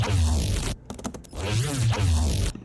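Alchemy Bass 164, a homemade bass synth sample, plays as two long, loud, thick throbbing low notes with a short gap of clicky glitchy bursts between them, no talk.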